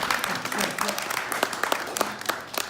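Mourners at a memorial gathering applaud, scattered hands clapping in an uneven patter with distinct individual claps standing out, and some voices murmuring underneath.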